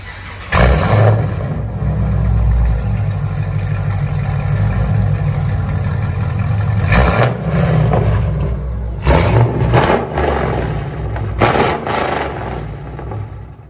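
A Chevy Camaro SS with a 6.2L LS3 V8 and a loud aftermarket exhaust idles with a deep, heavy burble. Several sharp revs burst over the idle, one early and a cluster near the end.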